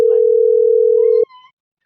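A loud, steady telephone dial tone holds for just over a second while a call is placed, then cuts off into a brief, softer higher beep.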